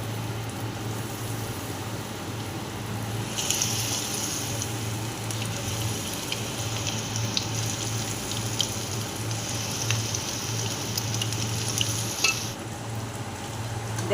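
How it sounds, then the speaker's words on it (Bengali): Marinated cauliflower pieces deep frying in hot oil give a steady, close sizzling hiss throughout, growing brighter and more crackly from about the third second, with no talking. "তেলটাও গরম হয়ে গেছে, ফুলকপিগুলো একে একে ছেড়ে দেব"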